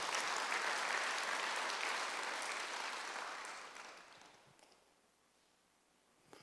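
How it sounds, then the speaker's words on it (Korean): A church congregation at a Sunday worship service breaks into applause, a broad wash of clapping that holds for several seconds before dying away into near silence. "박수로 나와주세요"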